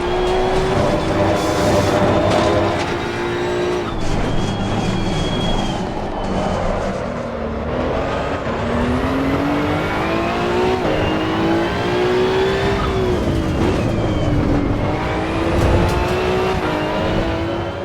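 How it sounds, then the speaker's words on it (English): A racing car engine from the game Assetto Corsa revs continuously, its pitch climbing and falling through gear changes, loud and steady with no voices. "I'm going to play the engine sounds from both games"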